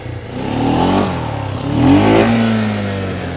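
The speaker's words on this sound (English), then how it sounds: "you can roll over that log like that. I'll try it in two-wheel drive" An off-road vehicle's engine revs hard as it climbs over a log on a trail in four-wheel drive, two loud surging revs with a clattering drivetrain, close and alone.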